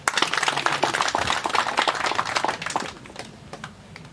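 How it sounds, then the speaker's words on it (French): An audience at a ceremony for UNICEF's donation of medical kits and motorcycles to health zones in North Kivu breaks into brisk clapping, strong at first, then thinning to a few scattered claps. "nous pouvons aussi les applaudir"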